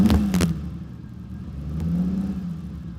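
A classic car engine fired with a start button and key: a couple of sharp starter clatters, then a steady low idle that swells slightly, close and fairly loud.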